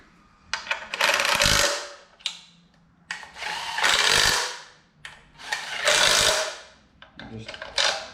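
A pneumatic impact wrench tightens bolts on a Jeep hoist in three loud, close bursts of about a second each, separated by short pauses.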